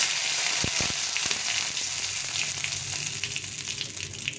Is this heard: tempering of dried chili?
yes